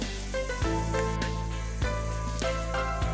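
Sliced onions and aloe vera frying in oil for homemade hair oil, a steady close sizzle with soft crackles and occasional clinks of a utensil against the pan.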